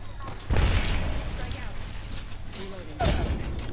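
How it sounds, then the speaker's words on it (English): A grenade explodes in a first-person shooter video game, with two heavy booming blasts about two and a half seconds apart over steady in-game noise. "What a grenade shot"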